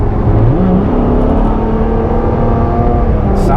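A 2015 Ferrari F12 Berlinetta switched to race mode revs hard, loud and close, its engine note climbing and then holding a steady, strained pitch with a whir on top, no talking.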